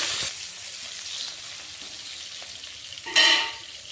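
Flat beans fry in a pan with potatoes, a soft steady sizzle broken by a sharp burst of hissing partway through, close and without talk.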